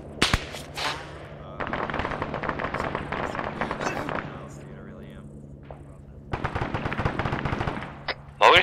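Gunfire in ArmA 3 crackles in long automatic bursts with a few single sharp shots, loud and close, separated by a short lull, while voices talk at moments over the shooting.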